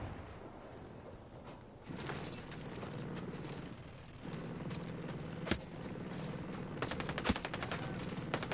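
Sustained automatic gunfire in Ghost Recon Breakpoint, rapid bursts and sharp individual shots rattling over a dense combat backdrop, loud and close.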